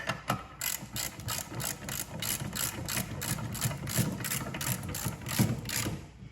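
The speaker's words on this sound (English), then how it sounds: "I'm going to give it a snug up with a wrench." A hand wrench ratchets in quick, regular clicks while snugging a guide on the 42-inch deck of a John Deere X300 series mower. The bursts are close and steady over a faint background hum, with nobody speaking.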